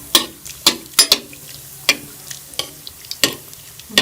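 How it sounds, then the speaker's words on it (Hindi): Chicken and vegetable kebabs fry in hot oil over medium heat, a quiet sizzle punctuated by sharp intermittent spatters and pops at irregular intervals, close by with no voices. "अब इसमें कबाब को फ्राई कर लेंगे।"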